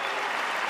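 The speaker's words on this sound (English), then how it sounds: "Thank you very much for cheering for me." A tennis crowd on a Roland-Garros court claps in a dense, sustained wash of applause, loud and close with no single claps standing out.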